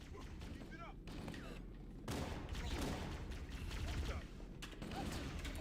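Gunfire in the video game Halo: Combat Evolved crackles in rapid bursts under steady battle noise and mechanical clatter, continuous and fairly dense, with faint voices mixed in.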